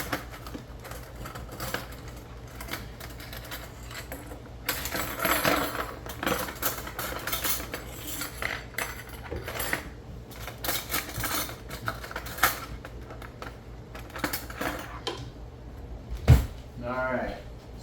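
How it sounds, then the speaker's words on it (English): A spoon clinks and scrapes in a pot while grease is scooped out during cooking of Zuppa Toscana, with irregular metallic knocks and pot clatter under ongoing talk, and one sharp bang near the end. "see if we can't get a spoonful of this grease out of here and just toss it into that pot"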